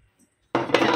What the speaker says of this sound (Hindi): अब ये 3 गिलास पानी डालेंगे